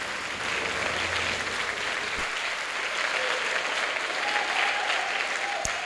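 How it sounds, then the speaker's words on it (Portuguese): A church congregation applauds together in a steady, dense wash of clapping that holds for several seconds, with a faint voice and murmurs under it. "Vamos aplaudir ao Senhor Jesus"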